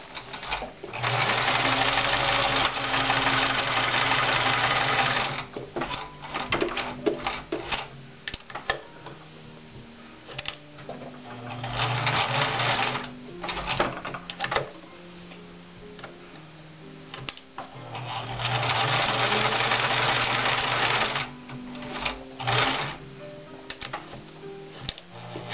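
A sewing machine stitches around the edge of knit fabric for handwarmers, running in three long bursts of steady fast ticking whir with short pauses and lighter handling noises between, close and clear with no talk.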